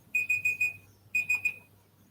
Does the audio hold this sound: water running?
no